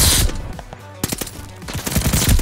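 Rapid automatic bursts from a Type 100 submachine gun in Call of Duty Vanguard: a loud opening volley, a brief pause, then a second string of quick, punchy shots up close.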